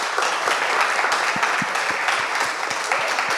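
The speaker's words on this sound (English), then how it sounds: "just give Guy and Ionah a quick round of applause and stay sitting" An audience at a talk gives a short round of applause, with steady dense clapping throughout.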